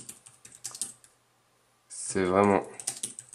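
Keys clatter on a Logitech Ultrathin Keyboard Cover for iPad in quick close taps, first alone, then under a spoken voice after a short pause.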